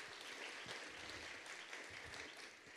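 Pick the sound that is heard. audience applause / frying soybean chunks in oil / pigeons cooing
audience applause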